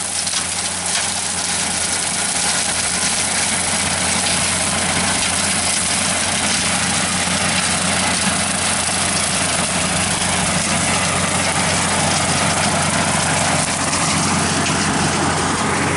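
A 5 ft brush hog mower fitted with two new blades runs steadily at low RPM while cutting through grass, its engine droning loud and constant throughout with no pauses.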